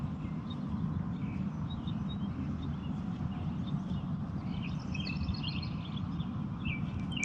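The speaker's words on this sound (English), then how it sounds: "Listen to the birds" Birds sing softly outdoors, scattered chirps and trills rising mostly in the latter half over a steady low background hum, faint and distant with no talking.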